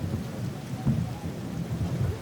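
A thunderstorm with steady rain pattering on surfaces at a French chateau, low rolling thunder rumbling beneath the hiss of rainfall, moderately loud with no talking.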